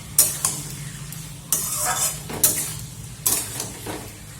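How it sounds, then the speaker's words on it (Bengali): Lote fish being stirred and mixed in a pan over low gas, with several distinct scraping and clattering strokes against the pan over a faint, steady background hum. "মাছটাকে দিয়ে আমি খুব ভালো করে মিশিয়ে নেবো।"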